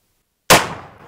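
A black powder revolver with an 8-inch barrel, loaded with 35 grains of black powder substitute, fires one loud, sharp shot that rings out and decays over the following half second, with no voices.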